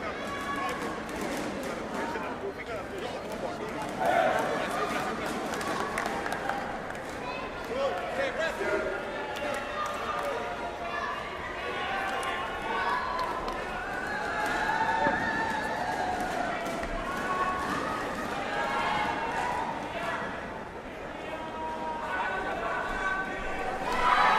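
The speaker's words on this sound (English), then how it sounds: "You can hear the crowd getting that energy." Crowd noise at a sepaktakraw World Cup match on an indoor court, a steady, loud murmur and cheering with bursts of chatter and occasional ball bounces, under continuous commentary.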